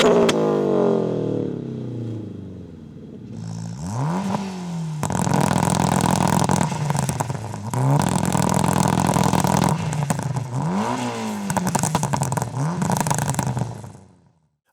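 A turbocharged Toyota GT86 flat-four and a turbocharged Corolla AE86 inline-four rev hard in turn, loud and close, with sharp climbs and drops in pitch and rattling bursts, before cutting off abruptly at the end.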